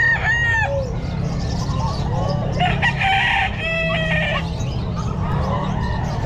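Sweater gamefowl roosters at a crowded pet market crow repeatedly, close and loud, amid clucking and a steady low hum of people talking.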